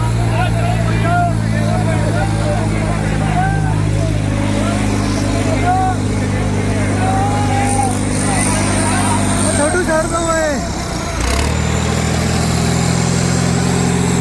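A tractor engine roars loudly and steadily during a tractor pulling contest, its deep drone rising and shifting near the end, while people shout and talk over it.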